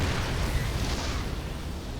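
Siege tank fire in StarCraft II: a dense, continuous wash of booming blasts and rumbling explosions, loud throughout with no talk.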